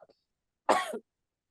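A single harsh, sputtering cough about a second long, bursting out suddenly after a brief quiet moment.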